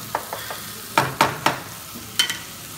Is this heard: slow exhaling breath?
no